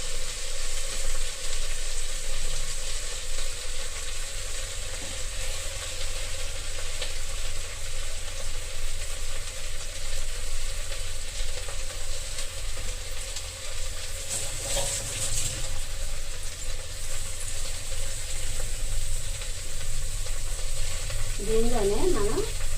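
Amaranth leaves fry in hot oil, making a loud, continuous sizzle up close, with stirring noises throughout and no talk.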